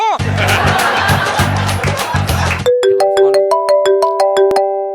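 People laugh and chatter loudly, then a phone ringtone cuts in with a bright, repeating electronic melody ringing clearly on its own.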